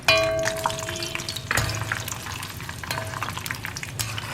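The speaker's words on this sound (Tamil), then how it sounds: "கடலை நிறுத்தி நிதானமாக தான் வறுபடும்." Peanuts frying in hot oil for a Tamil mixture snack give a steady sizzle and crackle, with a few sharper spits and a stirring scrape, close up with no talk.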